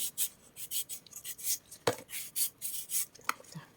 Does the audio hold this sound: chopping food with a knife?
yes